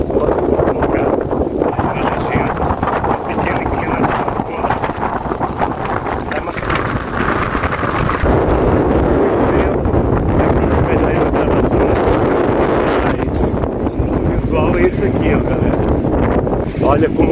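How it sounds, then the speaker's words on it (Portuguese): Strong wind roars and buffets the microphone continuously while someone rides a bicycle, a loud broadband rumble with gusty surges, and a voice speaks in places. "Olha como o vento está forte"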